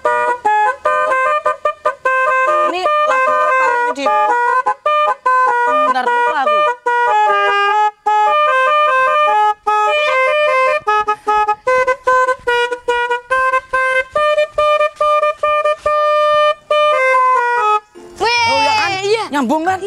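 Telolet horn on a truck playing a tuned melody of rapid, bright honked notes, loud and close, ending on a phrase resembling the Coffin Dance tune.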